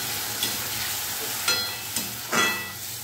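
Kochur loti (taro stolons) fry in a pan with mustard and green chili paste after turmeric, giving a steady close sizzle broken by a few sharp stirring scrapes; no talking.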